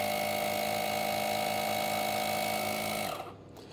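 An Ampbank AP3000 portable tire inflator pumps with a steady, loud mechanical buzz that holds for about three seconds before cutting off abruptly, leaving quiet behind.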